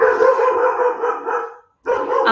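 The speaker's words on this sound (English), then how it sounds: "you have dogs start going crazy behind you. Apologies if that's very distracting." Dogs bark and yelp continuously behind a speaker in a residential neighborhood, a loud, busy run of overlapping barks with a brief pause before they start up again.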